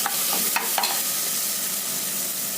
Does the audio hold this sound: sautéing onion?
yes